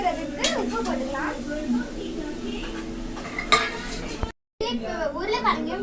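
Spoon stirring tomato and onion sautéing in a pan, a continuous scraping and sizzling close by with clinks of utensil against the pan, briefly cutting out near the end.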